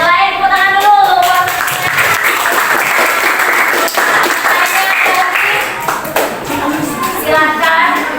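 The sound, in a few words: class clapping hands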